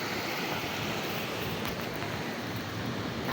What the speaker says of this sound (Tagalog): Gandang tunog ng ilog, yung lagasgas ba?